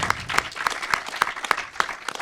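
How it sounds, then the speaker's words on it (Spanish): Audience applause at a round-table talk during an international film festival, steady clapping with regular sharp accents throughout, fairly close and moderately loud, no voices over it. "Un aplauso."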